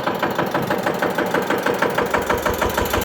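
Close, loud tractor engine running with a rapid, regular chugging pulse, steady throughout until it stops suddenly.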